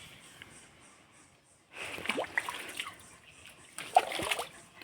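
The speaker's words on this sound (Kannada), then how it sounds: "ಇದು ಸೋಗೆ ಹಾಕಿದ್ದು ಉಂಟಲ್ಲ ಅದಕ್ಕೆ ನೀರೆಲ್ಲ ಬಿಟ್ಟಾಯಿತು" Water is poured onto a thatch of areca leaves, arriving in two splashing, pattering bursts after a quiet start, close and moderately loud.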